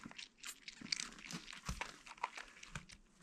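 A stray cat crunching on a dry snack, with close, irregular bites and crinkly chewing sounds scattered through a few seconds, fairly quiet and without speech.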